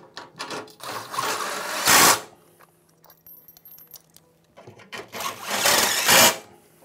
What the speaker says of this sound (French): on va maintenant visser de ce côté-ci